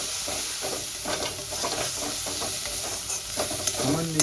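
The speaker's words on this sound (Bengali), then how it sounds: "মশলাগুলো একটু কষিয়ে নেব।" Spices sautéing in oil in a pan for an egg and potato curry, a close, continuous sizzle broken by repeated scraping strokes of a stirring spoon.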